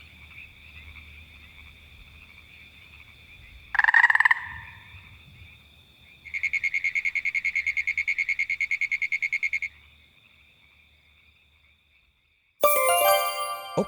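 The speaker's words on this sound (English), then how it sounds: "So the next time you hear a frog, ribbit, ribbit." Frog calls: a short burst, then a long rapid pulsing trill repeating steadily, against a quiet high insect-like hum, ending with a sudden bright chime.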